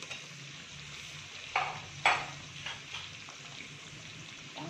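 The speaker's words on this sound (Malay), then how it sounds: "Kita tumis bumbunya seadanya dulu." Chili paste and spices for Minang-style chicken rendang sauté quietly in a pan, a faint steady sizzle broken by a few soft stirring knocks.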